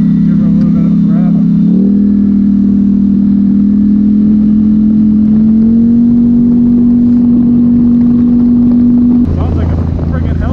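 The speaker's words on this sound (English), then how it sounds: "So I don't know how well you're going to hear the exhaust with the camera right now" Engine and exhaust of a Polaris Sportsman 1000XP ATV with a freshly rebuilt engine, a steady loud idle-like drone that rises in pitch in two steps as it is revved, continuous and close, with no talk over it.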